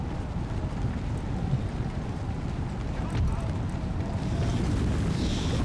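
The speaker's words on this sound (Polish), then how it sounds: "Ale leje. Coś strasznego." Heavy rain pours during a battle in Empire: Total War, a dense, unbroken hiss of downpour that stays loud and steady throughout, blended with a windy rush.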